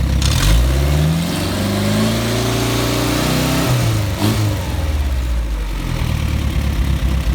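A Mercedes 190SL engine on a test run idles steadily, then revs up loudly with rising harmonics before settling, recorded up close with no talking.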